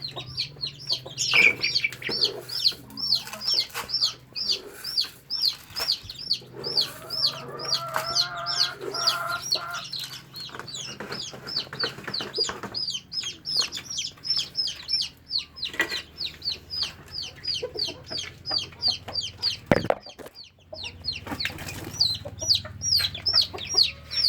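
Backyard native chickens cluck continuously in a busy flock, with repeated short clucks and occasional crowing-like calls over a steady background, fairly close and moderately loud throughout.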